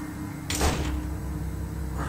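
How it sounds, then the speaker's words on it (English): A door opens or shuts in the video game Pocket Mirror: a single short, muffled thud with a brief rush, fairly close, over a quiet steady ambient background. "Why did I hear a door?"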